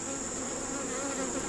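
Honey bees buzz around an open hive in a dense, steady drone, close and continuous with no talking.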